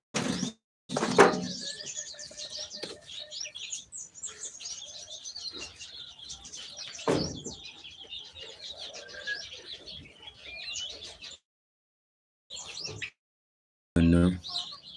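Busy high-pitched chirping and peeping from several local chickens on a farm, with a few louder flutters and knocks, then short gaps of near silence.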